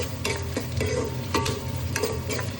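Onions fry in a pan for ghee rice while a spoon stirs them, scraping and clacking in short irregular strokes over a soft sizzle, close up with no talking.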